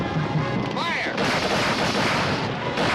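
Gunfire in a 1955 Western battle scene, a dense continuous volley of loud shots and booming blasts filling the whole few seconds, with shouting faintly mixed in.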